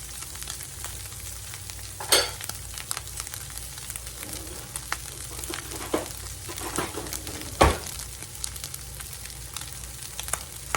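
Browned meat and onions fry in a pan for an enchilada casserole, a soft continuous sizzle broken by a few sharp scraping stirs, close and moderately quiet with no talking.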